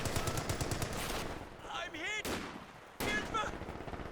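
Rapid machine gun bursts and gunfire from the video game Company of Heroes 2, dense and loud at first, then broken by shorter volleys amid battle effects and whistling sounds.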